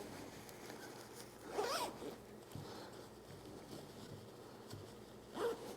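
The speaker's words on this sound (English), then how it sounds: "You can close it, you can zip it up." An LED light-up hoodie being zipped closed: two distinct zipper runs, a clear pull early on and another near the end, close and moderately loud against a quiet room, with no talking.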